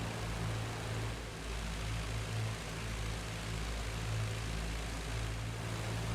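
WW1 propeller aircraft engines in the flight combat game IL-2 Great Battles drone in a steady, low, throbbing roar, with several planes flying close together, loud and unbroken.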